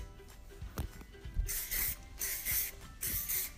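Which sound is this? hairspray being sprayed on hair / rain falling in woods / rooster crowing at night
hairspray being sprayed on hair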